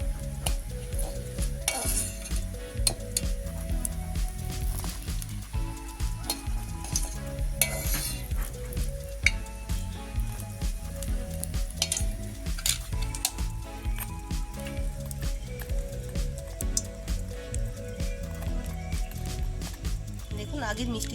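Semolina and milk-powder darbesh sweets fry in hot oil with a continuous crackling sizzle, punctuated by spoon stirring and utensil clinks against the pan, while someone speaks over the cooking.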